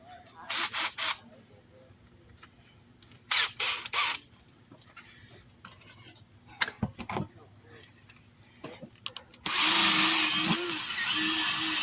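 A power tool scrubs corrosion from the rim and tire edge of a 2009 Chrysler Town & Country, coming in short loud bursts early on, then a steady loud run over the last two seconds, with talk in between.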